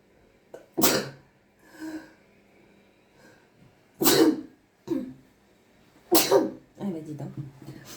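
Three loud, close sneezes burst out at roughly two-second intervals, each with a sharp breathy onset and a brief trailing exhale, with a little throat noise between them.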